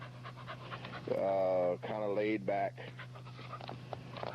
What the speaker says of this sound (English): He's a big dog,